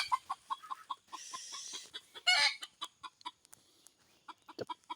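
Junglefowl clucking close by in a quick series of short, sharp clucks, broken around the middle by a louder, rougher squawk-like burst before the steady clucking resumes.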